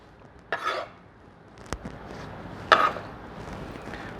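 Chopped radish and cucumber pieces tumble into a bowl for a salsa, two soft clattering drops a couple of seconds apart plus a sharp knock between them, in a quiet kitchen.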